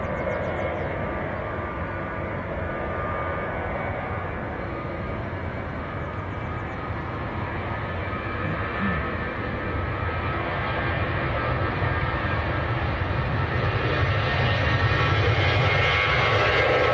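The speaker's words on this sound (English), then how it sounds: "Do have a Ryanair to Dublin on the roll." Ryanair jet bound for Dublin rolling down the runway for takeoff at Manchester Airport, a steady broad engine roar that holds level and swells slightly louder toward the end, heard from a distance with no talk.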